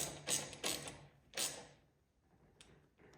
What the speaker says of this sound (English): I'm gonna go ahead and tighten the bolt now